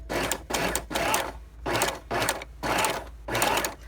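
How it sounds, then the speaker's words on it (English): Janome New Home 124 sewing machine stitching in short rhythmic bursts, each run of stitches lasting about half a second with brief pauses between, close and fairly loud with no talking. "So then I'm ready to sew."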